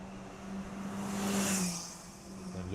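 Toyota Celica race car climbing a hill at a circuit race, a distant engine drone that swells and fades as it passes, without clear talk.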